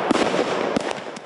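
Fireworks fired from an automatic display battery crackle and pop in rapid, irregular bursts, with several sharper bangs standing out against a continuous sizzling roar, fairly close and loud.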